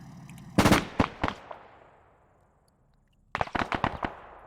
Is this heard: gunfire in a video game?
yes